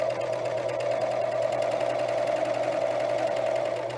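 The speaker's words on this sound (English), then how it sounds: "I've started the stitching, and so I'm going to use the edge of my presser foot as my guideline for my next row of stitching." A serger sewing machine runs a cover stitch along fabric, a steady, continuous rapid whirring hum held close and unbroken throughout.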